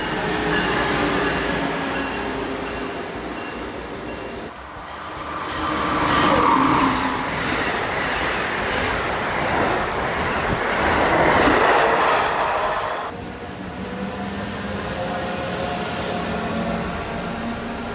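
Trains pass an outdoor station at Baltimore with a steady rail rumble that swells into a loud, close roar of wheels and cars in the middle, then eases back.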